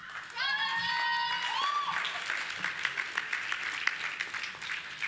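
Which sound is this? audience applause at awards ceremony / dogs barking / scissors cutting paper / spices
audience applause at awards ceremony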